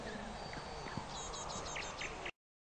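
Steady clip-clopping of a horse's hooves at a show course in the 2003 game Disney Princess: Royal Horse Show, an even rhythmic trot under a background music bed, ending abruptly in silence.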